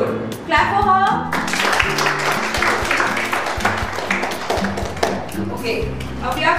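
Children in a school classroom clap together in a brisk, uneven burst of close hand claps, mixed with chatter and background voices.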